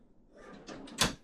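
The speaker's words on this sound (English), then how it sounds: "It's a locked drawer that you have to lift it first and then pull it out" A locked drawer on a Cavalier 54 sport fishing boat is lifted and slid out, giving soft rustling scrapes that build to one sharp, close clunk near the end, with no voices.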